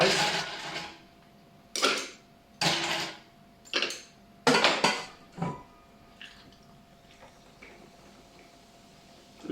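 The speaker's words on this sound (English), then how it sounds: "But before that, I'm gonna add some more ice." Ice cubes clink and rattle into a cocktail glass in several separate bursts, near and moderately loud, with quiet pauses between them.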